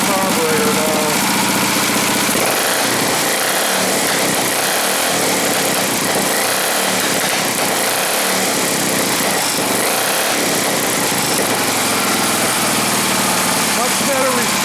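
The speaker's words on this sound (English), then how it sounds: "We're just running off the carburetor now." Small go-kart engine running straight off its carburetor with the gas tank and fuel line removed, a steady buzzing drone throughout with voices talking over it.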